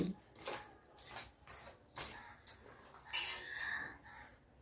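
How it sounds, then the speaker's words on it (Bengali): A kitchen knife slices a large cabbage in half, giving a series of faint crisp crunching cuts and knocks against a board in a quiet room, spaced irregularly over a few seconds. "বাঁধাকপিটাকে আমি অর্ধেক করে কেটে নিচ্ছি"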